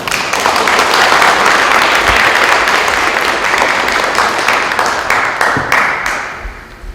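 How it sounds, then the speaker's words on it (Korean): Audience applause at a senior ministry training lecture in an Atlanta Korean Presbyterian church, welcoming the guest professor; dense, steady clapping fills the room for several seconds, then thins and fades at the end, with no talking. "영 시니어 조현성 교수님을 박수로 맞이하겠습니다"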